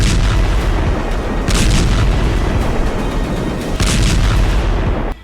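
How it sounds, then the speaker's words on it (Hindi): Israeli IDF airstrikes hit Gaza, producing loud, continuous booming explosions and heavy rumbling blasts that overlap one another for several seconds. "जरा इजरायल की आईडीएफ के हवाई हमलों के इस वीडियो को देखिए"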